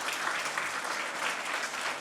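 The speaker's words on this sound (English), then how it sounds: "May I have a round of applause?" An audience at a poetry recital claps in a steady, even round of applause that stays moderately far away and softly level throughout.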